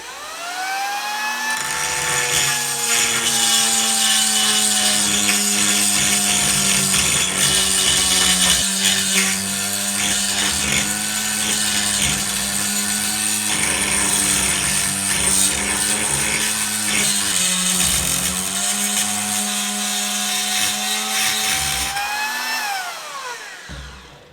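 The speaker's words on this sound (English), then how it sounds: "A die grinder is best in tight spaces, so let's see how it cleans this weld." A Parkside PGS 500 die grinder cleaning a metal weld gives off a loud, sustained high-pitched whine that holds steady for over twenty seconds, then winds down at the end.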